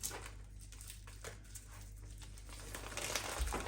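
Plastic packaging stuck to a frozen pork loin crinkles and rustles as it is handled in a kitchen, giving soft, irregular crackles at low volume.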